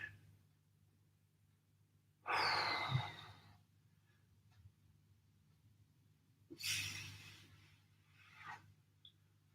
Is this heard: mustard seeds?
no